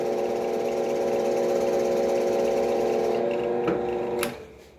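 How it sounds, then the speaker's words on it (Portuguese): A sharpened drill bit bores through a piece of wood with a steady whine of the motor, then the bit breaks through the far side and the drill winds down near the end, with no talk. "Eu vou tentar levar o furo até o ponto onde ela já fura a madeira, já atravessa a madeira"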